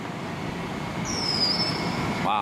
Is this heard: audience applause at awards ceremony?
no